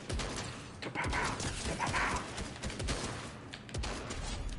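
A charge SMG in a video game fires rapid, crackling bursts that come in clusters, fairly faint and mixed with other game noise.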